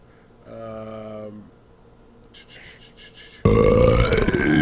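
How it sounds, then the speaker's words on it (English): A low, drawn-out burp rumbles for about a second, followed by quieter shuffling, then a loud burst of voice at the end. "Your burp needs work."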